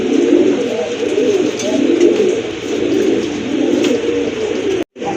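A male and female pigeon pair coo in close, continuous low rolling calls, loud and steady throughout, with a brief dropout near the end.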